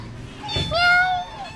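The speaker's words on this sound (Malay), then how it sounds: "Ada banyak kucing." Several cats at an animal shelter in Alor Setar, one giving a rising and falling meow that lasts about a second, with other soft animal sounds and children's voices in the background.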